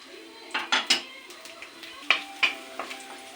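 Finely chopped garlic drops into hot coconut oil in a pan for egg gravy, with a faint sizzle under several sharp, close metal clinks of a spoon against the cookware.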